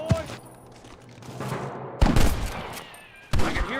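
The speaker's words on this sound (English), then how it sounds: "I can hear more gunshots." Gunfire in Red Dead Redemption on PC during a fight to clear out Pike's Basin, with three loud bursts of shots separated by brief lulls and a faint voice underneath.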